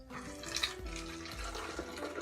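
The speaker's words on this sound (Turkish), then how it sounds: "Bunun üzerine bir süzgeç ve bir huni yardımıyla boşaltıyorum." A steeped bay leaf infusion is poured through a strainer and funnel, making a quiet, close, continuous trickle and splash of liquid.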